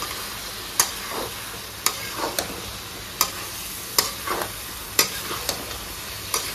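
A pan of colocasia and chicken frying as a little hot water goes in, a low steady sizzle broken by sharp scrapes and knocks of stirring at irregular intervals, no talk.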